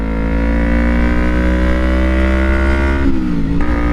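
2012 Kawasaki Ninja 250R engine droning steadily and loud while riding through the city, holding a fairly even pitch before a brief dip and rise near the end.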